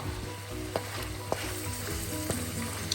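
Pork adobo simmering and sizzling in a pan: a steady, soft frying hiss with a few faint clinks of stirring, quiet and close, with no talking.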